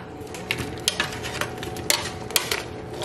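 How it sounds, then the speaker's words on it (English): Potatoes tossed into a pot of boiling smoked turkey necks, a series of clattering knocks and splashes against the metal pot over a bubbling simmer, close and irregular. "And now I'm going to add our potatoes."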